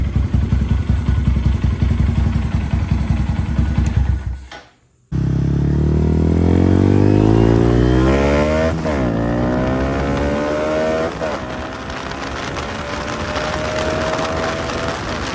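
A 2024 Honda Grom motorcycle fitted with an aftermarket cam runs nearby with a choppy, throbbing idle. The engine cuts out briefly, then restarts and revs up and down with rising and falling whines before settling back into a lumpy idle.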